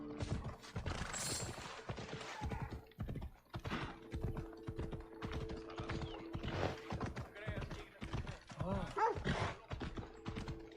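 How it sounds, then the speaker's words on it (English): Horse hooves clip-clop in Assassin's Creed Odyssey, a quick, steady run of close, crisp knocks. Speech and background game sounds are layered over the hoofbeats. "That's a nice horse, Socrates."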